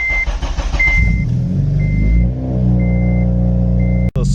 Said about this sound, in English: Let's go ahead and give this car a cold start and wake up the whole neighborhood.